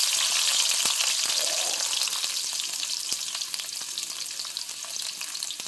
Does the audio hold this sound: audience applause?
no